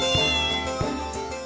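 A cat meows repeatedly in close, clear calls, with several short meows in quick succession and no voices heard.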